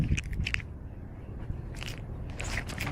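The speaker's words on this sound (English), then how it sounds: "Those are some good crunchy sunflower seeds." Someone chews crunchy sunflower seeds close by, with short crackling bites near the start and again toward the end over a steady low background.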